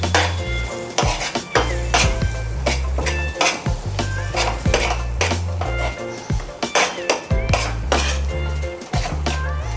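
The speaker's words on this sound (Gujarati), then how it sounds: "હવે આ આપણે ધીમે ધીમે આવી રીતે મિક્સ કરતું જવાનું છે." A spoon stirs a yogurt, red chili, salt and besan mixture in a bowl, making rhythmic wet scraping and clinking strokes that repeat closely and sound loud.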